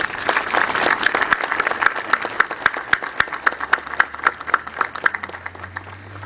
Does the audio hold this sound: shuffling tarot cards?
no